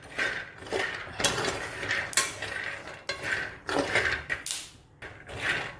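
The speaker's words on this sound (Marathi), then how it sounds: "शेंगदाणे भाजायचं भांडं" Peanuts being stirred while roasting in a forty-year-old pot, heard as irregular bursts of metallic scraping and rattling, close up, with short pauses between strokes.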